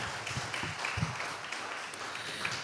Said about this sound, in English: Come on, y'all can keep clapping.